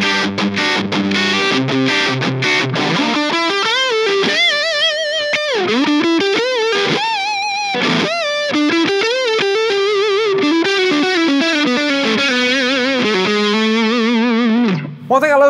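A distorted Jackson JS1X DK Minion mini electric guitar with a 22.5-inch scale plays a continuous melodic line with bends and sustained notes, loud and upfront with no talking.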